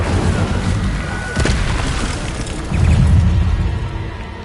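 Fiery blasts from the Incendio spell in Hogwarts Legacy, a couple of heavy booming bursts with crackling tails, loud and close.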